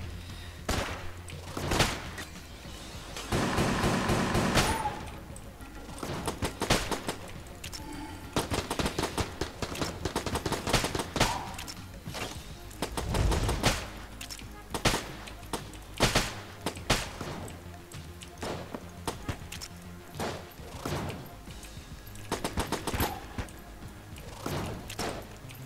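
Rapid gunfire from the 38 special revolver in the game Enter the Gungeon, quick bursts of shots mixed with thumps and other game effects over a dense layered soundtrack.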